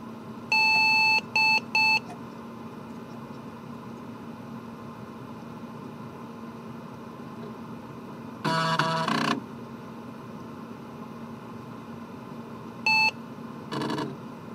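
A retro PC booting with a cheap AliExpress CGA graphics card gives short bursts of loud electronic beeps in clusters, with long stretches of steady fan hum between them.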